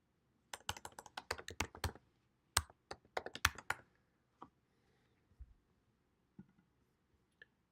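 Quiet bursts of typing on a computer keyboard to log in, rapid clicking keystrokes in two clusters followed by a few isolated key taps, close and alone.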